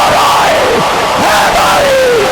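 A large crowd at a religious gathering roars religious slogans in unison, such as the Naara-e-Risalat and Naara-e-Haidari: loud, dense massed shouting rising and falling in swells, with no single voice standing out.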